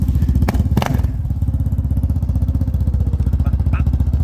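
A 2012 Can-Am Outlander 800 XMR ATV engine idles and runs steadily with a loud, throbbing muffler, close and continuous, with a couple of short thumps early on.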